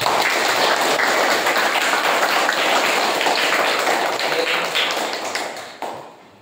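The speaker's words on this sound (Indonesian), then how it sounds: "Mari kita beri tepuk tangan yang meriah." A classroom of fourth-grade pupils claps together in sustained, dense applause that holds steady, then thins out and stops near the end.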